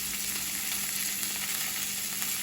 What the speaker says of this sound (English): right now she is browning up the Italian meatballs